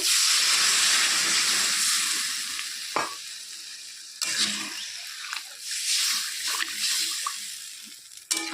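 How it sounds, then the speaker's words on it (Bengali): Loud sizzling and hissing as broth is poured over fried bata fish in a pan, with bursts of splashing and stirring as liquid hits the hot oil. "মাছটা ভাজা হয়ে গেছে এখন ঝোল দিয়ে দেব"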